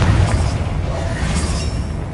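A fire-spell explosion in Hogwarts Legacy gives a loud, dense boom that fills the whole moment with a rumbling blast and no voices.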